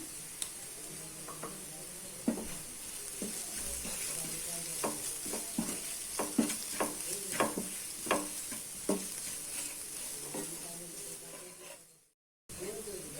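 Onions with turmeric, curry masala powder and salt sizzle and fry in a pan while preparing a potato-soya stuffing for bread bonda, with steady crackling hiss and stirring scrapes throughout, a short silent gap near the end.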